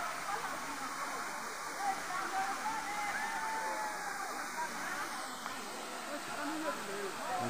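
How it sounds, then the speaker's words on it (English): The Tuisoi waterfall rushes steadily in the background, a continuous broad wash of falling water, while voices talk faintly over it. "Tuisoi waterfall."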